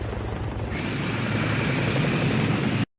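Three helicopters approach at high speed in the 1995 anime film Ghost in the Shell: a loud, steady rotor roar that builds slightly and then cuts off abruptly at the end.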